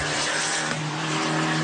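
The 1.4 litre engine of an Abarth 595 Competizione rasps at high revs with a strained, tyre-scrabbling edge, loud and close throughout, pitch rising and falling as it accelerates.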